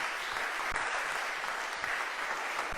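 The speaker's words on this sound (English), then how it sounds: "Please welcome me with vibrant applause" A crowd welcomes a speaker to the stage with applause, a soft, even wash of many hands clapping at a distance, steady and unbroken for a few seconds.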